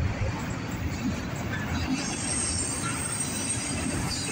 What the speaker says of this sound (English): there goes our eastbound Norfolk Southern Herzog train and our CSX